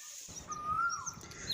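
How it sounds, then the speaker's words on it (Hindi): Small birds in nature give a few faint, brief chirps and thin whistles against quiet outdoor background. "चिड़ियों की मधुर आवाज़"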